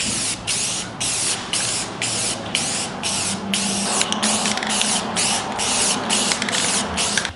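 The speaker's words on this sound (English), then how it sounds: "So now we are applying our first coat of our black paint." Aerosol spray paint hisses in repeated bursts as a first coat of black paint goes onto a car, steady spraying with brief pauses, close and fairly loud throughout.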